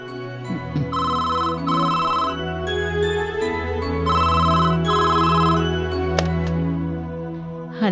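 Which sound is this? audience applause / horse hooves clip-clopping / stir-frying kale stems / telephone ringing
telephone ringing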